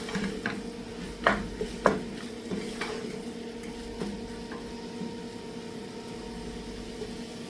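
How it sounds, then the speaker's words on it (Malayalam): Ripe tomatoes being stirred in a pan for Kerala-style mutton curry: a soft, steady low sizzle with a few scattered scrapes and clicks of the spoon against the pan, fairly quiet and close. "ഈ തക്കാളിയും ഒന്നിങ്ങനെ വാടി വരുന്നത് വരെ ഒന്ന് ഇളക്കി കൊടുക്കാം"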